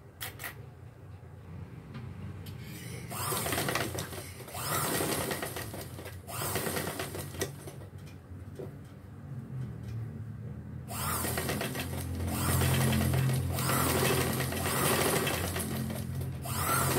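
Sewing machine stitching a V collar, running in steady bursts with mechanical whirring and rattling that pause briefly and resume, fairly close and continuous across the span.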